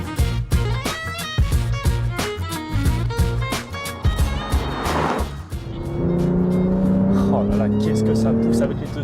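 Porsche 911 Carrera T (2018) with twin-turbo engine and shortened manual gearbox, heard as pulses of engine noise then a sustained rising drone under acceleration, loud and close, with someone talking over it.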